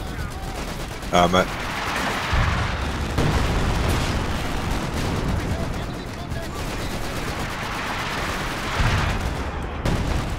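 Artillery fire in Company of Heroes 2, a 4v4 Annihilation match, with repeated booming and crackling gunfire blasts running steadily under a voice.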